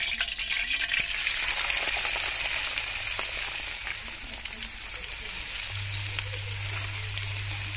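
Onions dropped into hot oil in a village kitchen, giving a steady, close, bright sizzle that runs throughout, with a low hum entering near the end.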